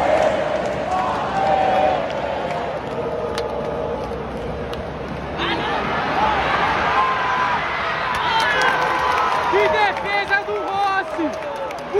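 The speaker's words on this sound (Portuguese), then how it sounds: "Escuta a torcida e vem junto!" Loud Fla-Flu football crowd at a Rio de Janeiro stadium roars and sings steadily throughout, with rising whistles and cheers layered over the dense, continuous din.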